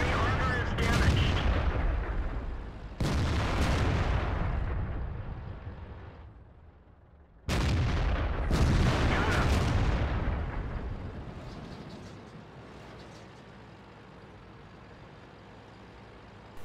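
Heavy tank cannon in the World of Tanks video game fires several times, each booming blast loud and close with a rumbling tail, the shots coming in two pairs separated by a quieter engine drone, which fades out at the end.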